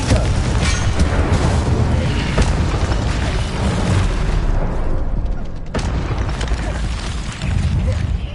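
Confringo spell blasts explode in Hogwarts Legacy amid other combat spells, a loud, continuous barrage of deep booms and crackling bursts with a brief lull near the end before the blasts resume.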